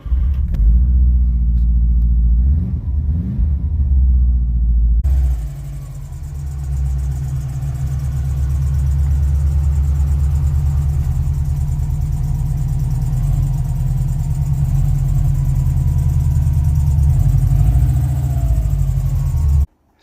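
A Subaru car engine rumbles steadily at close range as the car drives into a garage, a loud continuous low drone for about twenty seconds, with a lighter start before the engine sound swells.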